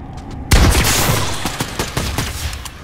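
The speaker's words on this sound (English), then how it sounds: "Wow, the shotgun's good!" Shotgun blasts in Fortnite, a sudden loud opening shot followed by a rapid string of sharp, booming gunfire reports of uneven spacing, with no voices.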